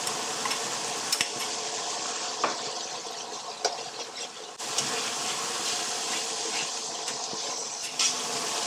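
A dhansak curry base sizzles and caramelises in a hot pan with salt and jaggery added, a steady, close frying hiss broken by a few sharp clinks from stirring.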